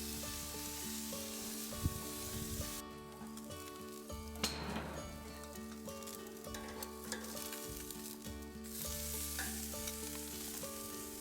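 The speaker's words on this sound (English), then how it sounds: "you want to turn it quarter turn and continue to sear for about another minute or so" A steak sears on a grill with a steady, close sizzle and frying crackle, the heat building after a quarter turn, punctuated by a few light clinks and tool scrapes, with no talking.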